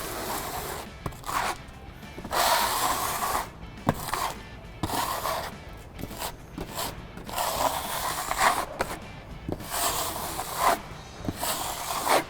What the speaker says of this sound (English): And then take my flat scraper.